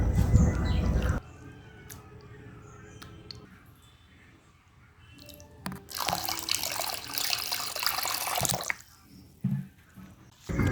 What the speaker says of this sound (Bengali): তো এটি আমি পরিষ্কার জল দিয়ে ধুয়ে রেখে দিব 10 থেকে 15 মিনিটের মতো নরম হওয়ার জন্য।